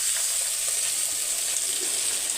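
Chopped cabbage hits a pan of frying green chilies and curry leaves, giving a steady loud hissing sizzle that holds evenly throughout.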